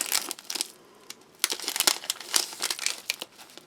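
Crinkling plastic packaging of a Russian delicate black tea from a Shturm military ration being opened, with close, irregular crackles and rustles that come in bursts over several seconds.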